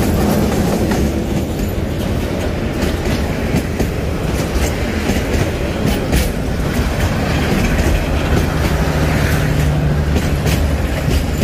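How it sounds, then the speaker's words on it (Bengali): The Dhaka-bound Balaka Express passenger train passes through a village station in Gazipur, a loud, continuous roar of rolling wagons with steady clickety-clack wheel beats and faint squeals, filling the whole stretch. "বলাকা এক্সপ্রেস ট্রেন আসছে, ঢাকাগামী বলাকা এক্সপ্রেস ট্রেন।"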